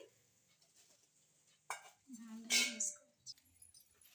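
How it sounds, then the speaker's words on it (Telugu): Hot oil is worked into wheat flour dough in a bowl for a sweet gothalu snack: a brief burst of sizzling and scraping in the middle, surrounded by quieter clinks and rustling. "ఇప్పుడు ఇలా మంచి కలుపుకోవాలండి"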